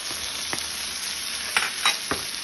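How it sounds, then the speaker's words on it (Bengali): Chopped tomato with turmeric and salt is stirred in a pan, making a steady, soft frying hiss broken by a few sharp utensil scrapes and taps. "আর দিয়ে দেবো কেটে রাখা টমেটো। এগুলো একটু নেড়ে"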